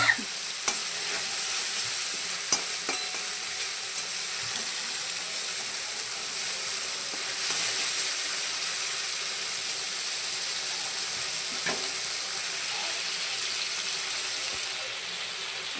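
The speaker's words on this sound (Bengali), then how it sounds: "এইভাবে মশলাটা আমার কষানো হচ্ছে" Spice masala sautéing in oil for a fish curry, a continuous close sizzle with scattered spoon scrapes and taps against the pan, no voices.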